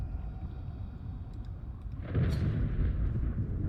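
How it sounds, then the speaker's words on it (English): Thunder rumbles in the video game Subnautica Below Zero: a steady low background rumble swells into a louder, broader roll about halfway through and holds there, with no talking over it. "What's that sound? Is it just thunder?"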